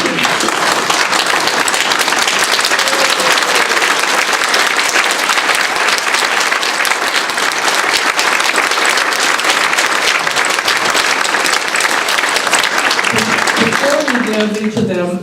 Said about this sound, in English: please stand and give them a rousing applause